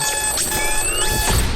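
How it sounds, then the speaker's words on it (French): An alarm clock ringing in a French radio jingle, a bright electronic tone with rising sweeps, short and upfront over a faint background. "Connie, Monsieur de Perpignan et Mélissa activent votre réveil dans le 6-9 sur Vibe Radio"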